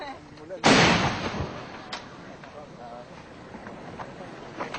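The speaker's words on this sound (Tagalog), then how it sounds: "Maya't-maya, maririnig ang sagutan ng putok sa magkabilang panig." A sharp, booming blast rings out and rolls into a long echoing decay, followed by fainter distant pops over windy outdoor noise.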